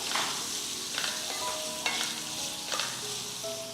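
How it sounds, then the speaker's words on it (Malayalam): Lemon pieces stirred in a hot pan while cooking an Onam sadya dish, with soft scraping strokes and light sizzling at a steady close pace, several louder stirs breaking through, no voices. "നാരങ്ങ ചേർത്ത് കൊടുത്ത് ഇതുപോലെ ഒന്ന് ഇളക്കി കൊടുക്കാം"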